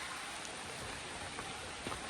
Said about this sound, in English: it's pouring rain really hard right now